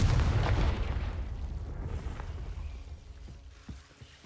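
A Confringo fire-blast spell in Hogwarts Legacy erupts as a deep, heavy boom at the start, then rumbles and fades into a long decaying tail with a few faint clicks at the end.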